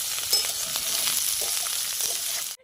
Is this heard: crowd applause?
no